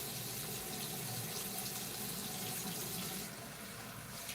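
Hot water pours steadily from a tap, a constant faint hiss and splash lasting throughout, with a slight drop in level near the end.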